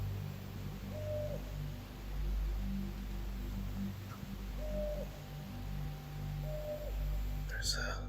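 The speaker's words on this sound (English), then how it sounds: "There's a couple owls that have been around this area. Pretty cool to listen to." Owls call at night in the distance in a wilderness area, several faint, short hoots spaced out across the recording over a low background rumble.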